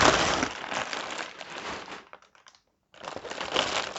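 Plastic crinkles and rustles up close in bursts, falling silent briefly before another round of crackling handling.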